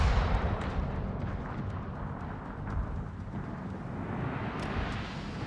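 Naval gun salvos from the battleship Maine in World of Warships, a deep rumbling boom at the start that rolls into sustained low thunder and fades slowly, with faint distant reports.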